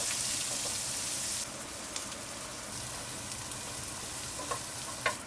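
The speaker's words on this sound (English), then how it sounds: "add the sliced onions, the crushed garlic, a bit of salt and black pepper, and fry on high heat" Steady, close sizzling of sliced onions and crushed garlic frying on high heat in a pot, a constant crackle with a few sharper pops and stirring clinks near the end.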